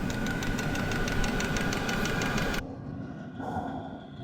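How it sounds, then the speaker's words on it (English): Vevor portable diesel heater powered by two Ryobi batteries in a pack-out, running with a steady close rhythmic pulsing hum and fan whir that cuts off abruptly partway, leaving quiet background. "Here it is, folks. The portable diesel heater, powered by 2 Ryobi batteries inside a pack-out."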